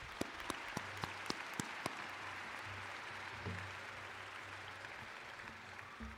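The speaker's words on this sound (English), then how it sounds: "Let's give them a round of applause." Applause from the audience at Daytona State College's 59th annual commencement ceremony, a steady distant wash of clapping with a few sharp claps standing out near the start, fading toward the end.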